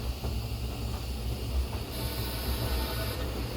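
Train wheels rolling on rails make a steady, loud rumble with a constant hiss and no pauses.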